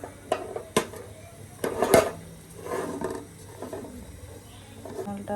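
A utensil scraping and clinking against a pan while sugar caramelizes for a pudding, a few sharp knocks early on, then softer stirring scrapes at close range.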